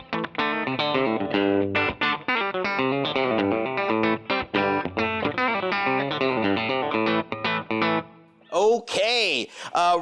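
A clean electric guitar plays a quick run of plucked notes with delay and reverb trailing each one, ending in a brief burst of wavering, swirling tones.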